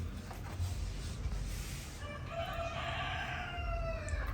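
A rooster crows once, fairly close, its drawn-out call rising over a low rumbling background.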